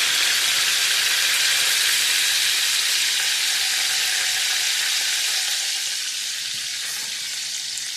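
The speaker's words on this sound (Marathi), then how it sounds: "चांगलं हलवून घ्यायचं." Food sizzles loudly and steadily in a pan as it is stirred after lemon juice is squeezed over it, with a dense, even hiss that fades slightly toward the end.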